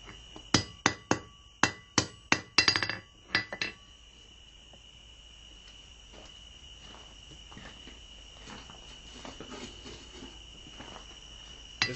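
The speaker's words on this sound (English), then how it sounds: "Alright, continue this square taper down." A hammer forges a square taper on a steel fire poker drawn from 3/8 inch square bar. About a dozen sharp, ringing blows come in quick rhythm in the first few seconds. After that only quiet shop ambience remains.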